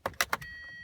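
A 2013 Hyundai Sonata is started with a normal key: three quick, loud bursts of cranking, then a steady, even tone that holds to the end. No voices are heard.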